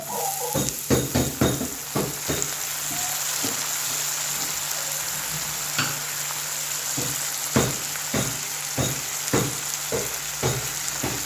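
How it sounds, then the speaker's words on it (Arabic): Tomatoes frying with onions in oil in a pan for a summer shakshuka, a dense continuous sizzle up close, broken by irregular sharp crackles and pops throughout. "بعد ما تقلى البصل نضيف الطماطم"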